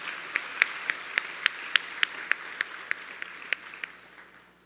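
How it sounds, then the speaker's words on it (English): About a dozen evenly spaced claps ring out over a soft crowd wash for the dancers at an evening birthday concert during a Maha Rudra Yaga, tapering off at the end. "Let us give all the dancers a round of applause."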